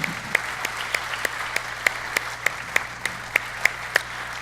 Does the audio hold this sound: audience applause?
yes